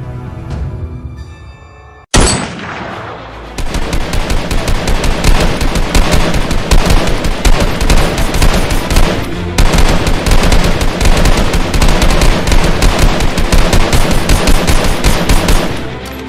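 Soldiers fire guns in a horror story's action scene: one sharp blast, then a long, dense burst of rapid automatic and scattered gunfire, loud and close, with no voices.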